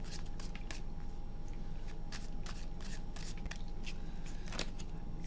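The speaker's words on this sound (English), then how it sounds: "2 more shuffles." Tarot cards are shuffled by hand in a steady run of soft riffling and slapping bursts, fairly quiet and close, with no voices.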